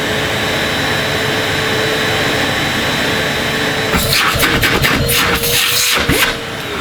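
A Numatic Lewis vacuum cleaner, a John Lewis exclusive model, runs with a steady loud motor drone throughout, joined near the end by clattering handling noises and a brief dip in level.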